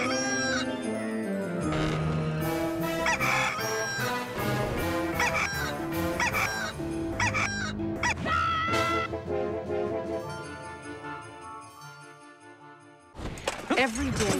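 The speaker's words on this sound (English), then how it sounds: "Every day the rooster crows" Rooster crowing within a busy mix of dialogue, music and overlapping sounds, with people talking throughout; the crow is one element among many, fairly loud and close.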